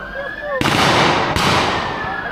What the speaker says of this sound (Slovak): Takže počujeme, že policajti strieľajú po páchateľoch.